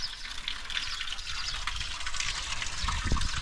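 Steady rushing water flows continuously, a broad bright wash of splashing with no break, close and fairly loud.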